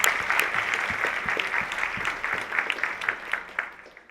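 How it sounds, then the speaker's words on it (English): Caregivers' conference audience giving a round of applause, a steady wash of many hands clapping at moderate distance that thins toward the end. "So would you give yourselves and everyone here a round of applause"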